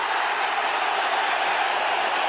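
A cricket stadium crowd at an India versus Australia match in Bangalore roars in a steady, dense wash of cheering that holds at a constant level throughout.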